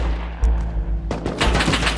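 AK rifle gunfire in the Rust video game, a single loud shot followed by a pause and then a dense flurry of rapid overlapping shots, close and punchy.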